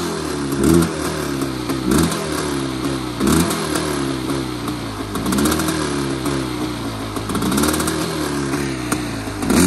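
A frame-off restored Kawasaki KX 500 two-stroke dirt bike idles while warming up, its engine loud and close with a rough, pulsing burble and periodic blips of throttle throughout.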